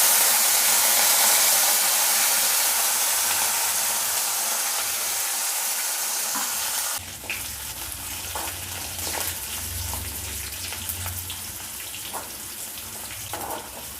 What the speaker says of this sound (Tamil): இஞ்சி, பச்சை மிளகாய், கருவேப்பிலை, கொத்தமல்லியும் போட்டு தாளிக்கலாம்.